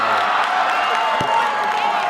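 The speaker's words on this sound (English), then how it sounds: "And there's the Utah crowd." A Utah crowd at a pickleball match roars with cheering and applause in a loud, continuous wash of many voices and hands.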